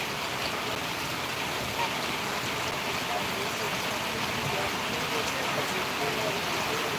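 Heavy rain pours down in a dense, steady roar, unbroken for the whole stretch.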